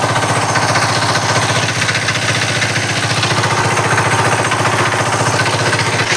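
Engine-driven machine running steadily while a tube well is being installed, a loud continuous rhythmic chugging and clatter, close and unbroken throughout.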